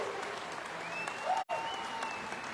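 Audience applause at a business event in Delhi, steady and fairly faint, a continuous patter of clapping hands with a brief break near the middle.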